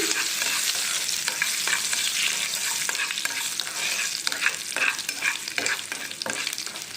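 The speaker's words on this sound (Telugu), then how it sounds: "ఎండుమిర్చి ఆవాలు వేసుకోవాలి వేసుకుని బాగా కలుపుతూ ఫ్రై చేసుకోవాలి" Dried red chillies and mustard seeds sizzle and crackle in hot oil while being stirred, a dense continuous frying hiss with frequent scraping stir strokes and sputtering pops, close and loud.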